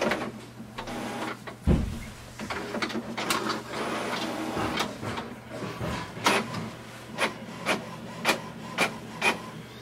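An HP OfficeJet Pro 6978 all-in-one printer making a copy: soft mechanical whirring and rubbing, followed by a regular series of sharp paper-feed clicks toward the end, close and moderately quiet.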